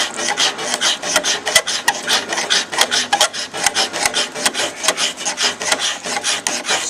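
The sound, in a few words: scraping spongy wood layer off back of a bow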